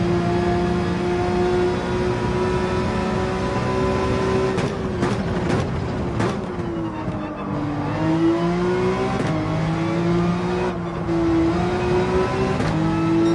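A race car engine held at full throttle through a section of track in Gran Turismo 7, a loud steady high-revving drone with brief gear-shift dips midway, continuous with no talking.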